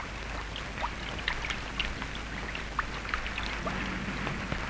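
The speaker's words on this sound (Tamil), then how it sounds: "என்ன வள்ளி இவ்வளவு மழையில் நினைஞ்சு வந்து நிக்கிற" Steady rain falls with scattered drips and patters over a low, constant wash of noise, fairly close and unbroken by voices.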